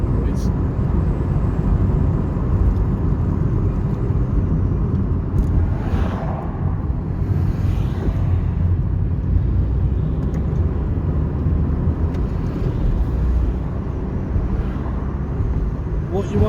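Car engine and road rumble heard from inside a moving vehicle, a constant loud low drone with tyre and wind noise that barely varies throughout.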